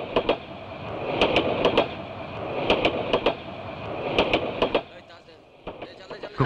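Passenger train running, rhythmic wheel clatter and sharp repeated clicks over rails in a steady pattern, with people talking over it, the rumble dropping near the end.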